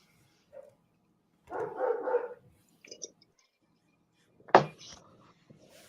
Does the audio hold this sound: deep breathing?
no